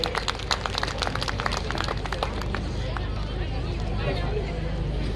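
Outdoor crowd at a political rally gives dense, continuous applause, loud and close, with the claps densest at first and thinning into a steady wash of crowd noise and murmuring.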